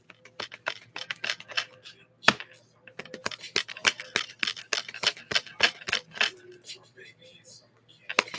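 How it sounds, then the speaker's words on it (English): Tarot cards are shuffled by hand up close, a fast irregular run of crisp riffling snaps and clicks that bunches into bursts and thins out toward the end. "Last shuffle."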